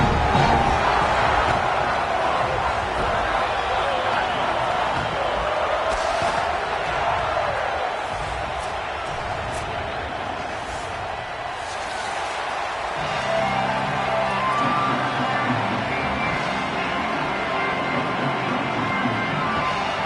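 A large home football crowd in BYU Cougars' stadium at elevation keeps up a dense, continuous roar at a steady level for the whole stretch, with a commentator talking over it.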